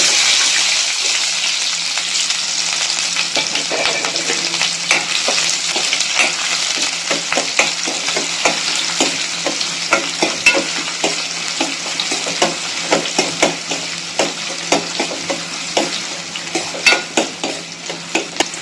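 Mustard seeds and onions frying in hot oil in a home kitchen, a steady loud sizzle with crackling pops that grow sharper and more frequent toward the end.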